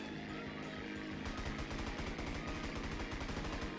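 Aircraft guns chatter in rapid, continuous bursts during a video game dogfight, close and steady throughout with no talk over them.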